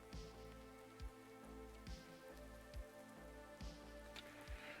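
Steady rain patters in the video game Minecraft, a soft continuous hiss broken by regular low thuds, with no voices.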